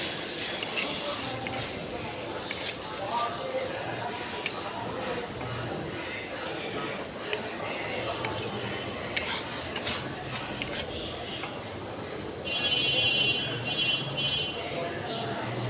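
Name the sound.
bitter gourd frying in oil with onion and garlic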